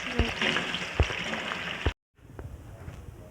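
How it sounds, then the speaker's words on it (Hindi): Potato slices dropped into hot cooking oil crackle and sizzle close by, with a few sharp pops. The sound cuts out briefly, then the frying continues more softly. "अभी आलू को डालूंगी फ्राई करने के लिए।"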